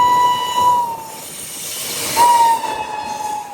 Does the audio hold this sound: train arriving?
yes